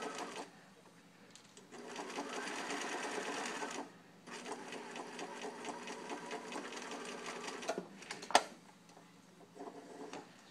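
A sewing machine stitches a yoke to a skirt in two long, steady whirring runs separated by a brief pause, close and moderately quiet, followed by a sharp click.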